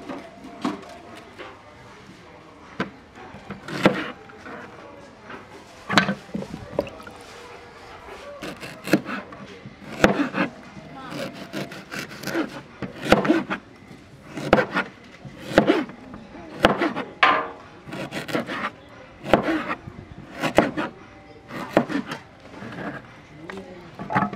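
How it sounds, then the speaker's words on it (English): Garlic being chopped for a goat light soup seasoning in a village kitchen, heard as a steady series of close, sharp knife knocks on a wooden board at an irregular rhythm, with faint background voices. "We are cutting the garlic into the blender"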